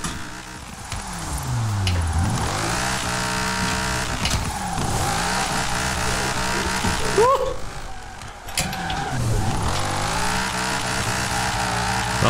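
Drift car in Forza Horizon 4 with a loud engine revving and dropping in repeated sweeping pitch swings, shifting gears and tires squealing, heard continuously and up close.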